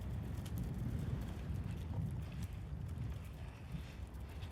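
Wind blowing hard outdoors, a steady broadband rumble buffeting the microphone throughout with no clear pauses.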